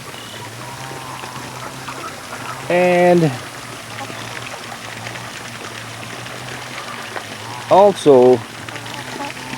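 Well water pours into storage tanks with a steady, moderate rush that runs throughout, and a person speaks briefly twice over it.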